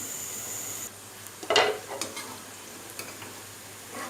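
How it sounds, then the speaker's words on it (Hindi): Okra frying in a pan for a dhaba-style masala bhindi, with a brief burst of sizzling and stirring near the pan followed by scattered light scrapes and clinks against a faint background hiss. "ये देखिए जी, अल्हम्दुलिल्लाह भिंडियाँ हो गई हैं फ्राई।"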